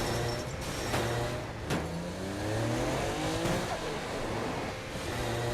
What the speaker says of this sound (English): driving is fast, fluid, and fun. You can stop on a dime, power slide around corners